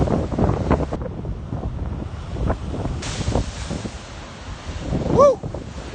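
Large Atlantic ocean waves surging onto a beach after a storm, a roaring wash of surf heavily buffeted by wind noise, with a brief shout near the end.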